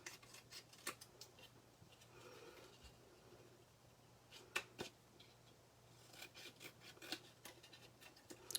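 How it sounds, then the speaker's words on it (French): Dull craft scissors cut paper in a series of short, quiet snips and rustles, a few clustered together and then spaced apart, close by against a low steady hum. "Mon dos, mes ciseaux coupent mal."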